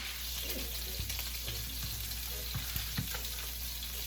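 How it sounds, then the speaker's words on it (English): Pork chops braising in a pan on the stove, a soft, steady sizzle with occasional clinks and light stirring scrapes, fairly quiet and close, no voices. "We're just trying to braise it a bit before we put in the oven"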